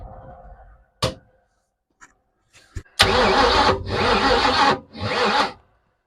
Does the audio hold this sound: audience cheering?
no